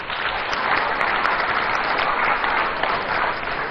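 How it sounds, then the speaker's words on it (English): A room full of people at a speech in Ghana claps steadily and evenly, a dense, sustained round of applause with no voices. "I think it's important that we give him a round of applause, please"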